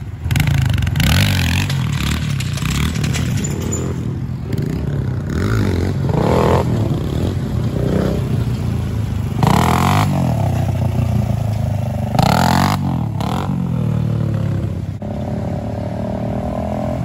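A motorcycle rides around a training track, its engine revving and surging loudly and continuously, with gear changes and clattering passes up close.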